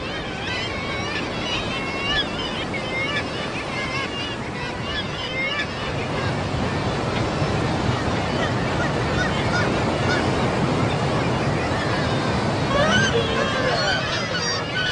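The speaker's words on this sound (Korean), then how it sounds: "가파른 벼랑과 바위 돌출부는 둥지를 짓고 있는 수백 쌍의 새가락 갈매기들로 붐비고" Black-legged kittiwakes calling from a crowded nesting colony on steep Norwegian coastal cliffs, a dense continuous chorus of overlapping cries with a steady wash of surf or water noise beneath.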